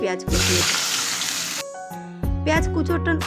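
Chopped onions dropped into hot oil with tempered spices for Bengali chicken curry, a loud hissing sizzle bursting up close, then settling into a lighter fry as a voice speaks over it.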